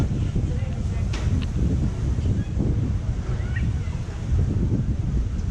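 Gusty wind at Princess Cays on a cloudy day buffets the microphone in a constant low roar, with faint hissing and occasional soft knocks, loud and close throughout.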